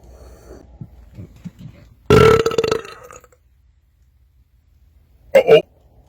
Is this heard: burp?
yes